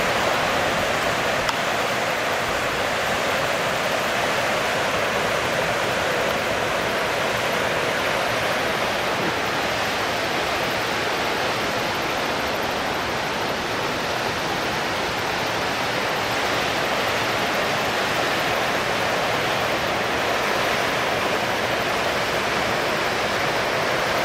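East Eagle Creek flows through a mountain valley in the Eagle Cap Wilderness, a steady, full rushing roar of water that stays constant and fairly close throughout, with no talking.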